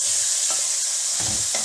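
Steady hiss of masala frying in a hot pan after a splash of water, with a few brief stirring scrapes breaking through; close and continuous, no voices.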